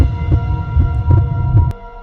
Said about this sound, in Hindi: सिया और अमित की दिल की धड़कन जोरों से बढ़ने लगी।